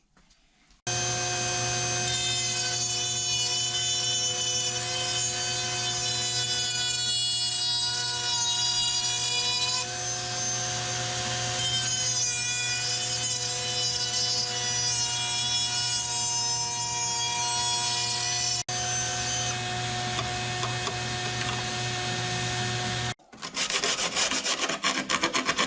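A powered cutting tool whines at a steady pitch for over twenty seconds, grinding and filing through a car body part to fit a 3D-printed NACA duct, then stops briefly and restarts.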